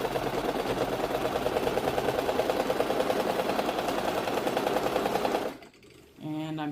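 An electric sewing machine runs off a foot pedal while quilting a colorful border, with a steady, rapid mechanical stitching chatter for about five seconds. It then stops and a brief voice follows.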